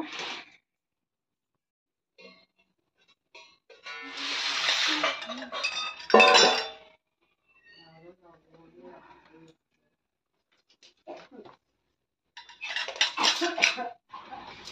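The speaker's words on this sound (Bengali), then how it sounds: "আমি এখন ভাত বসিয়ে দিয়ে সবজিগুলো কেটে নিচ্ছি" Kitchen clatter while vegetables are prepared for a mixed vegetable curry with eggplant and jackfruit seeds: scattered clinks of metal utensils and dishes, a few louder bursts of rattling, with quiet gaps between.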